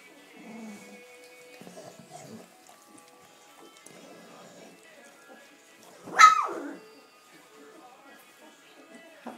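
Sixteen-day-old puppies give faint little whimpers and yips, then one sharp, louder high squeal-bark rises and falls, with soft voices of people murmuring in the background.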